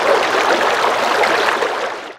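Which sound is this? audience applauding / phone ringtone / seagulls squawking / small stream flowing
small stream flowing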